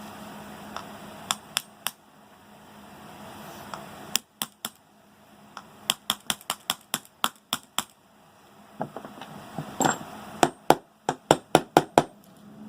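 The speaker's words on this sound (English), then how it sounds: "I have to be careful when I hit it with a hammer" Sharp metallic hammer taps on the outer edge of a wheelchair bearing, some single and some in quick bursts, ringing close and clear over a faint steady hum.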